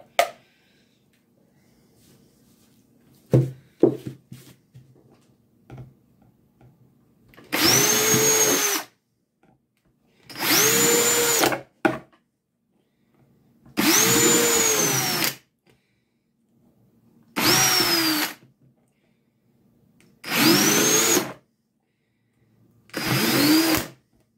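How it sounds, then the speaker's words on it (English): A power drill boring holes in pots, running in six separate bursts of a few seconds each, each with a rising whine, separated by near silence and a few clunks of handling at the start. "I'll get to drilling."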